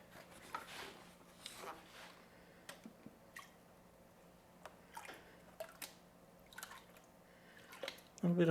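River material from New Mexico's Arroyo Hondo being washed in a gold pan, soft sloshing and dripping water with faint scraping, close and intermittent over a low steady background.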